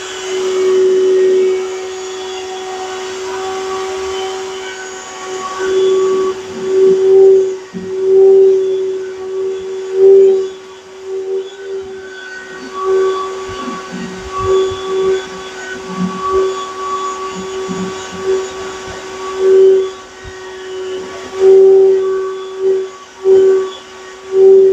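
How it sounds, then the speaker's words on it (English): A vacuum cleaner sucks ash out of a drum smoker with a steady whining drone, its pitch and loudness surging and dipping as the nozzle moves, heard close and alone. "So we're going to go ahead and get that vacuumed out now."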